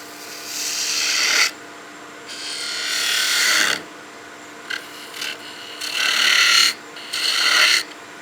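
Spindle gouge cutting a turning wood workpiece on a lathe, a rasping scrape in several bursts of one to two seconds with short pauses between, close and fairly loud, no voices.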